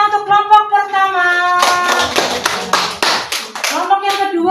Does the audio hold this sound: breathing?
no